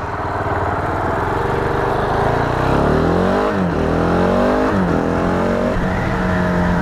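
A Japanese motorcycle engine revs hard up through rising and falling pitch sweeps, loud and close, over a steady idle rumble.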